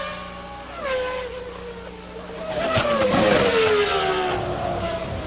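Jean Alesi's Ferrari Formula 1 car overtaking at the 1995 Japanese Grand Prix: a high engine whine sweeps down in pitch as one car passes, then a second louder surge of engine noise builds and fades, with no talk.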